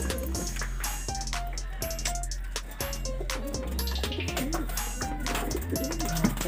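Racing pigeons arriving at a loft give soft, repeated coos over a steady low hum and scattered clatter, with brief bird calls standing out now and then.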